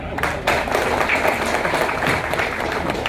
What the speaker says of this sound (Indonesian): Tepuk tangan buat Pak Saiful.